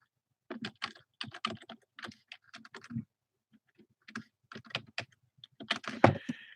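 Bursts of typing on a computer keyboard, entering a model number, with clustered rapid key clicks separated by short pauses, close and moderately loud, ending in a heavier flurry of keystrokes.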